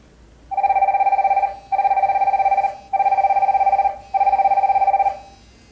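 An Evolves NextFIT SONG Touch smartwatch rings loudly with an incoming call, four evenly spaced electronic ring bursts of about a second each, clear and close with no talking.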